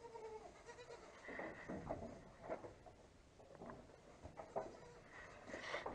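Several goats bleat on a cold farm, young bucks calling in short, uneven cries that come and go at moderate distance over faint background rustling.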